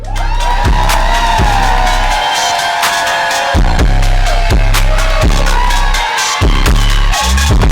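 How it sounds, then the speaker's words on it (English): Loud crowd cheering, whooping and yelling for a rapper as she comes out for a talk-show interview, sustained and close with a few sharp bangs, no talking. "So I need a huge round of applause."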